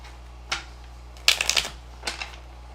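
Tarot cards being shuffled by hand in a few short bursts, a brief riffle, a longer crisp fluttering flurry, then a softer final shuffle, close and isolated over a faint steady hum.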